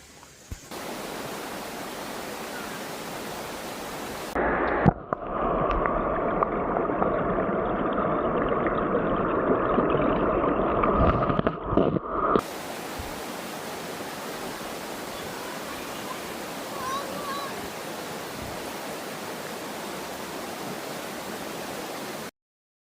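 Creek water runs steadily beside a campground at Smokemont in the Great Smoky Mountains, a continuous broadband rush; midway a louder, more tonal burst of flow or wind rises briefly before the steady stream resumes.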